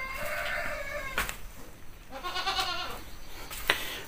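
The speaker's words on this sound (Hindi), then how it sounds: "ये हमारी बकरियाँ हैं, ये देख सकते हैं बकरियाँ और बकरियाँ हैं" Goats bleat on a farm in Uttarakhand, several wavering calls in a row, the first long and loud and another cluster following a pause, with chickens kept nearby.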